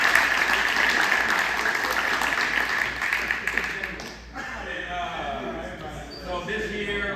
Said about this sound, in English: a big round of applause for Mitch